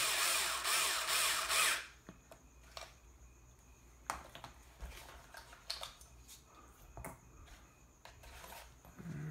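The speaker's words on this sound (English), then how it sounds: "we do have a clutch adjustment on the screwdriver" An electric screwdriver whirs loudly for about two seconds, driving screws into plastic on a radio-controlled Slash 2WD LCG truck, followed by quieter clicks, taps and handling of small parts.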